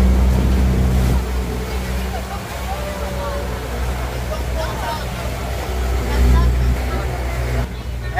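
A motorboat crosses rough, choppy sea on the way to Limasawa Island, giving a loud, steady engine rumble mixed with rushing water and wave wash throughout, with possible faint voices underneath.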